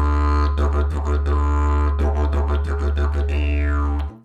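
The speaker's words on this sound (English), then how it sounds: "If I'm moving the tongue with the T and K, like toko toko to, it sounds like this." A didgeridoo drone played with rapid tongue articulation on T and K syllables, giving a steady low fundamental with quick rhythmic pulses and shifting overtones, loud and close, played alone.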